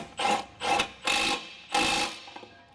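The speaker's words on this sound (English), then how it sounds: "This gun is more than capable of tightening it down." An impact gun tightening a ball joint nut on a Honda Accord front end, firing in four separate rattling bursts of about a third of a second each, close and fairly loud, with no talk.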